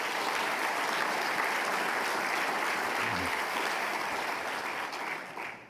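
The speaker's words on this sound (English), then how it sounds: "Can we all give each other a round of applause?" A conference audience of prostate cancer patients and caregivers applauds, with thick, steady clapping that fills the room and then tapers off quickly at the end.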